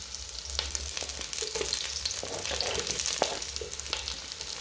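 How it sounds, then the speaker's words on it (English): Eggplant pieces frying with sausages in a hot pan, giving a steady close sizzle with soft crackles and occasional stirring scrapes throughout. "Now what I'm doing now is adding the eggplants, or what we call aubergines."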